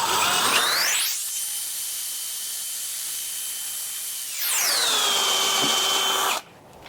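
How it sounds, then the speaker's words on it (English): A power drill spins a wire brush cleaning around a broken bolt with a loud, high whining hiss, revving up, holding steady, then winding down and rising again before stopping. "a wire brush on my drill here, and clean everything as to the best of my ability"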